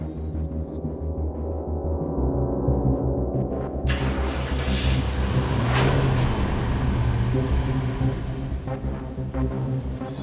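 A car drives along a deserted road at night, its engine a steady low hum and rumble throughout, with a brighter swell of road and engine noise partway through and no voices.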